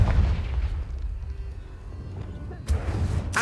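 A Confringo blasting spell exploding in Hogwarts Legacy combat, a couple of loud boomy blasts at the start and near the end with a low rumble between, with voice cries mixed in.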